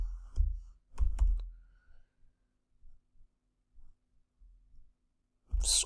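Keyboard typing at a computer desk, a few quick bursts of close clicks in the opening seconds, then sparse soft taps and near silence before a louder clatter at the end.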